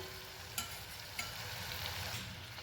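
Yogurt hitting sautéed guvar (cluster beans) in a hot pan, a steady close sizzle with two small clicks early on.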